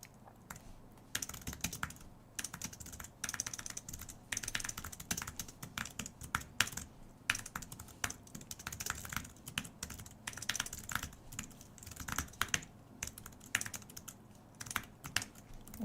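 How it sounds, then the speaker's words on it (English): Continuous typing on a computer keyboard during a coding session, with dense, fast key clicks in uneven bursts, close up and moderately quiet, with no talking. "Wow, I'm very good at typing."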